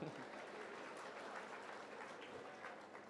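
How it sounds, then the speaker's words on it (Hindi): Crowd at a Hindu religious katha gathering claps steadily, a broad distant wash of applause at low level continuing for a few seconds without a break. "अच्छा, जोरदार तालियां।"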